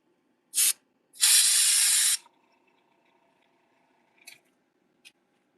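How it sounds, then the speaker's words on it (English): An airbrush sprays paint onto fishing lures in two hissing bursts, a short one and then a longer steady blast of about a second, followed by a couple of faint clicks in an otherwise quiet room. "I'll lose good airflow, which is crucial because it's an airbrush"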